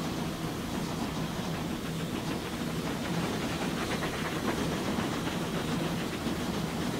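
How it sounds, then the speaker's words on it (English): Steam locomotive in the Transport Fever 2 game, a steady dense rumble and hiss with faint rhythmic chuffing that runs unevenly and continuously throughout. "It's like the sounds for the chuffs aren't quite working properly."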